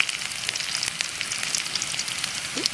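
Garlic and curry leaves sizzle steadily in hot oil over a low flame, a close, continuous frying crackle with light stirring and no talk.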